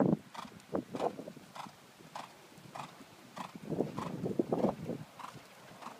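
A horse trots around a riding arena, hooves thudding in a steady clip-clop rhythm at moderate distance over faint background noise, with no talk.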